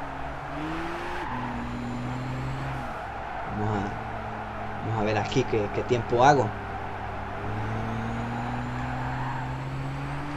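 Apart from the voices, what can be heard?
Nissan GT-R car power sliding in Gran Turismo 6 video game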